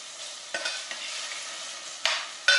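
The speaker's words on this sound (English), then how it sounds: "And about 1/2 cup of chopped celery. And I'm going to let that saute" Half a cup of chopped celery sautéing in a pan for minestrone soup, a soft steady sizzle with a few light stirring scrapes and clacks.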